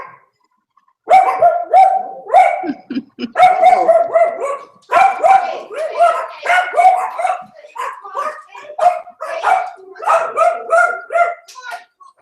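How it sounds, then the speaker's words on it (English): A dog barks repeatedly in quick, loud, close bursts with some yips, in irregular clusters across the whole stretch. "one dog barks"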